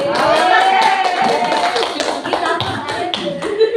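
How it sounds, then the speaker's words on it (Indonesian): An audience claps at a school vision discussion event, a brisk patter of applause over several seconds mixed with a voice speaking through it. "Tepuk tangan tuh."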